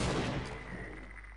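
A grenade detonates in the video game Half-Life, a single loud, close blast whose roar swells at once and then decays over about a second into a dull rumble.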